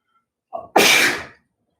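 A single sharp sneeze, with a short intake of breath just before the loud burst, alone in an otherwise quiet room.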